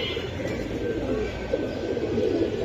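A flock of silver pigeons, including a bright red-eyed bird, coos in a steady overlapping murmur, close and continuous, with faint background noise and no talk.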